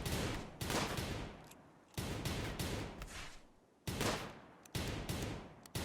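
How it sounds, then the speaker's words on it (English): Gunfire from a RimWorld video game battle comes as repeated volleys of rapid shots, each burst starting sharply and fading over a couple of seconds, all fairly loud with no talking. "Oof, another headshot on Bendak"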